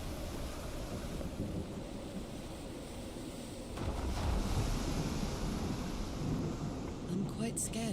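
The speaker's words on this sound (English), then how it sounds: "I'm quite scared of storms." Thunderstorm and ocean waves in the video game Call of the Sea: a continuous low rumble of thunder and surf with wind, swelling louder partway through, steady and enveloping with no clear voices.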